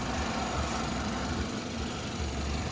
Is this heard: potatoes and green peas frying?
no